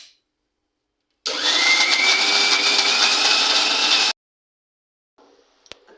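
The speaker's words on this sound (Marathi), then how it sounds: "आता ही मिक्सरमध्ये आपण बारीक वाटून घेऊया." A kitchen mixer grinder grinds ingredients into a fine paste for an alu leaf curry, a loud steady whirring motor that runs for about three seconds and then stops abruptly, followed by faint clatter.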